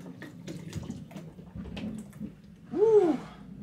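Liquid poured into a large bowl while mixing liquid chalk (magnesia) in bulk, the bowl nearly full; a short, moderately loud splashing pour rises near the end after a stretch of quieter handling.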